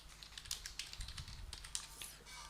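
Fast, quiet clicking of a computer keyboard, a steady run of light keystrokes close by over a low hum.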